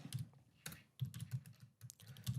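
Quick, uneven bursts of computer keyboard typing as a message is written, close and fairly quiet, with short pauses between clusters of keystrokes and no voices.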